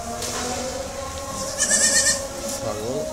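Goats bleat on a farm in central Dhaka, with one clear, wavering bleat standing out over steady background noise while people talk nearby.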